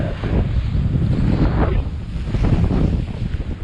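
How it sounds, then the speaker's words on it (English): Strong wind buffets the microphone aboard a sailboat crossing the Doldrums at sea, a loud continuous low rumble with gusting swells and no talk. "When the sailbag starts to flap, then we know we got a bit of wind."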